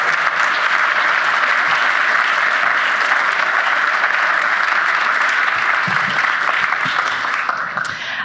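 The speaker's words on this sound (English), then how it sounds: "can I just ask for a round of applause for all of the teams who pitched today?" A crowd applauding the teams that pitched at a startup demo day, with dense, loud, continuous clapping that holds steady for about eight seconds before easing slightly.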